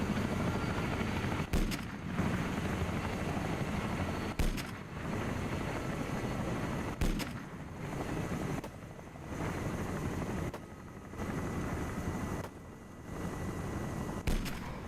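Steady helicopter rotor and engine roar in a military simulation game exercise, broken by a few sharp bursts of gunfire fired from the aircraft, spaced several seconds apart. There is no talking.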